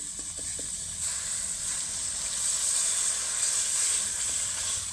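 Water poured onto sizzling spice masala for a fish curry gives a steady, fairly loud hiss of steam that swells midway, with a few light clinks at the start.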